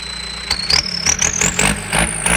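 A Yanmar EF72 tractor's turbocharged diesel engine revving in bursts, a rising turbo whistle climbing steadily over the rumble, loud and close.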